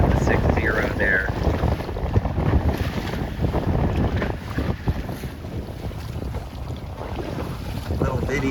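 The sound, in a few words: wind blowing during a Laser sailing regatta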